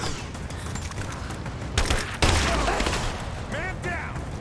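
Bursts of gunfire crackle in the video game Rise of the Tomb Raider, rapid shots standing out over a dense battle soundscape with shouted voices.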